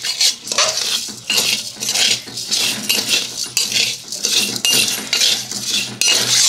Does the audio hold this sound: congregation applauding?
no